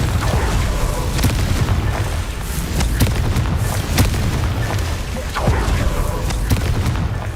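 Confringo spell blasts go off during combat in the video game Hogwarts Legacy, landing as a loud run of repeated booming explosions with sharp cracks over a dense, rumbling game soundscape.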